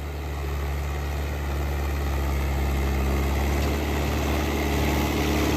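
A New Holland 850 tractor engine drones steadily at 2000 RPM while driving its PTO, a loud continuous low hum with engine vibration holding constant throughout, no voices.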